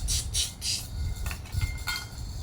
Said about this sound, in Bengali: তো এবার আমি হাঁড়ি বসিয়ে দিচ্ছি।